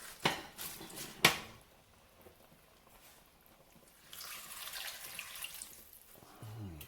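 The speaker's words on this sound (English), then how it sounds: "now I'm going to add my cabbage and my last 2 cups of water." Water splashes and trickles into a soup pot holding cabbage, with a couple of sharp clanks early on and a steadier pouring stream later, close by.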